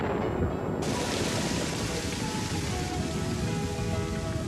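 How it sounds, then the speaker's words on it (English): Cartoon rain pours down as a loud, steady hiss of falling water that swells suddenly near the start and continues without a break. "The rain cloud is blowing toward us."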